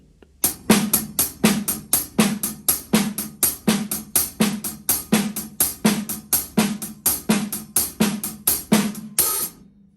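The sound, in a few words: drum shuffle with snare ghost notes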